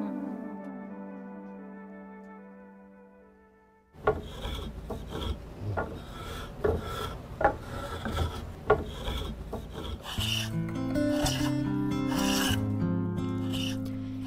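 In a traditional woodworking shop, a master craftsman's hand plane rasps across wood in a series of scraping strokes, following a soft held musical tone that fades out; the strokes are close and moderately loud, with music returning near the end.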